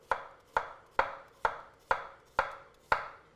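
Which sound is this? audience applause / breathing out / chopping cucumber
chopping cucumber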